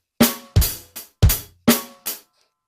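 A drum kit plays a short, loose pattern of six hits mixing cymbal crashes and kick drum, with flams between limbs so strokes meant to land together fall slightly apart.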